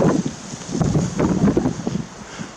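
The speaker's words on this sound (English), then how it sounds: "It's very windy" Strong wind gusting through woodland, a steady close roar with rising and falling buffets that batter the microphone, continuing with no voices throughout.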